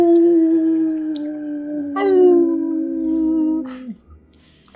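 A long, loud, mournful howl heard outside a window at night, a single sustained wavering tone that dips and rises, then breaks off before a short final cry.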